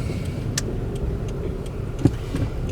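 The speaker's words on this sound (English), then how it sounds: "there goes my old car in the background" An old car passes in the background, a steady engine hum and road rumble at moderate distance, with a few faint ticks and one brief thump partway through. No one speaks.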